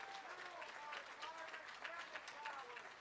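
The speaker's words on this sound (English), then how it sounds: "Round of applause for the best legislative session in state history" Applause from a crowd at an outdoor reopening celebration in Tacoma, a steady faint patter of many hands clapping at a distance, with no voices over it.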